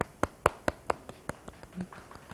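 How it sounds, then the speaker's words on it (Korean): A few people clap in celebration of a first broadcast during a live stream, giving several sharp, close claps that start quickly and then thin out to scattered taps. "박수를 치겠습니다"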